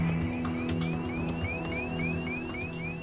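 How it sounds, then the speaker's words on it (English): A steady electronic cockpit cabin altitude warning alarm repeats rising chirps over a constant low hum and buzz, continuous and fairly loud with no voices. "That's the cabin altitude warning."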